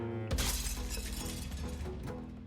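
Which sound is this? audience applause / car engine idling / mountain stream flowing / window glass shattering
window glass shattering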